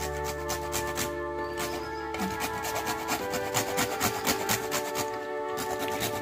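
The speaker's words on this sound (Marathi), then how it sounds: "हो, जायफळ पावडर पण चालेल, पण मी ते जायफळच घालते किसून." Whole nutmeg is rubbed against a grater for sweet dal filling, making a steady, close rasping scrape in repeated strokes that continues throughout.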